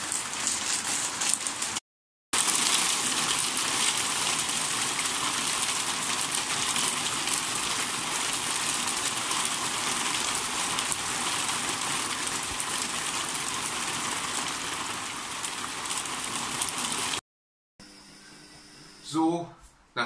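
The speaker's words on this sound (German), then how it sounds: "nachdem ich euch mal ein paar Regenszenen eingefügt habe in dieses Video" Steady rain falling early in the morning, a broad even hiss that holds for about fifteen seconds after a short break, then cuts out to quieter room sounds near the end.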